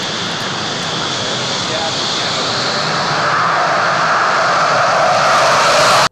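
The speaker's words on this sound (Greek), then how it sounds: "πιλοτάροντας ένα F-16, απογειώνεται από το αεροδρόμιο της 115 πτέρυγας μάχης στο ακροτήρι Χανίων" An F-16 fighter jet roars during takeoff from the 115 Combat Wing airfield at Akrotiri, Chania, in Crete; a loud, continuous engine rumble that builds slightly in strength, with faint voices in the background.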